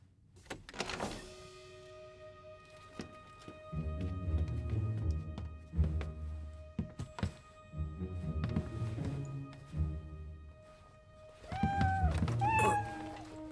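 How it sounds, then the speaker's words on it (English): Several cats meow in an animated Heidi episode, the cries scattered and fairly close. A longer, louder stretch of mewing comes near the end, with some background bumps and movement sounds. "Miss Rottenmeier has an aversion to cats"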